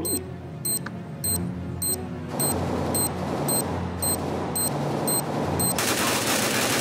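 Rapid gunfire from a CS:GO competitive match, a steady stream of sharp repeated shots with a faint ticking pattern above, growing denser and louder toward the end.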